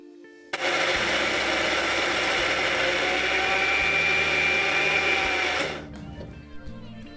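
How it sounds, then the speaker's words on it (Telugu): A mixer jar whirs steadily as it blends cream with water to make ghee, a loud continuous motor drone that starts abruptly, runs about five seconds and cuts off. "ఇప్పుడు మిక్సీ పడదాం."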